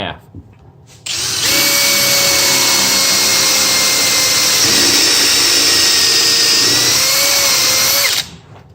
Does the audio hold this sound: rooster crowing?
no